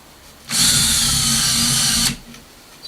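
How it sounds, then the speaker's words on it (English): A power drill fitted with a brad point bit bores through wood in one steady, loud burst of whine lasting about a second and a half, then cuts off into quiet. "when I feel it poking through, it's time to really reduce the downward pressure on the drill"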